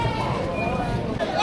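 Goats bleat close by at a busy livestock market, several wavering cries over a steady background of people talking.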